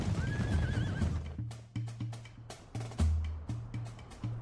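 A horse gives a loud, close whinny at Shandan Military Stud, an army horse breeding base in Gansu, followed by a steady run of clip-clopping hooves.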